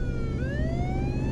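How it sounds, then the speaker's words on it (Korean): An emergency vehicle siren switches on and wails with a rising, sweeping tone over the steady rumble of an engine, close and loud, with no voices present. "운전을 맡은 윤문식이 사이렌을 틀면서 차를 유턴시켰다"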